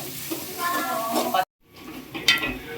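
Onions sautéing in a pan for a sprouted green gravy, with a soft continuous sizzle and stirring scrapes. A brief silent gap falls midway before the frying resumes.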